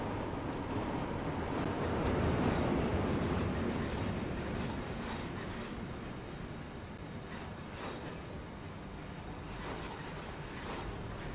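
Freight train wagons rolling steadily in Train Sim World, a continuous rumbling roll with faint rhythmic clatter and occasional higher wheel tones, loud and close throughout with no talk.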